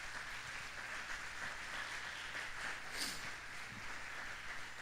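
Church congregation applauding, a steady faint wash of clapping from a crowd at a distance, unbroken for several seconds.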